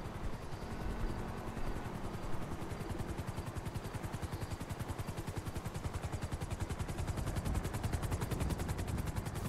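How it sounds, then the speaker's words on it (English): Steady rhythmic rotor chop of a helicopter arriving in the video game GTA 5, loud and continuous throughout, with a dense thumping pulse and no voices. "Wait for this slow ass fucking helicopter to get here."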